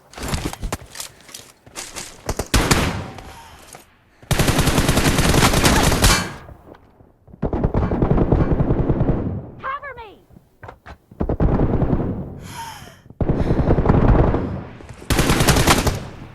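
PUBG Mobile gameplay is filled with loud, dense bursts of automatic gunfire that come in long, sustained volleys broken by short pauses, with scattered single shots and game effects, while someone talks over the action.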